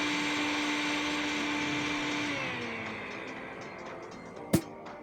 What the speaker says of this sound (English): we can pop this orange juice in a blender